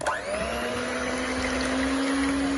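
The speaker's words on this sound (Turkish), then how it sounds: "Şöyle köpürüp iki katına çıkana kadar çırpacağım. Mikserimin yüksek devriyle." An electric mixer at high speed whips a cake mixture of sugar and water until it foams, giving a steady, unbroken motor whine with a high hum that holds for several seconds.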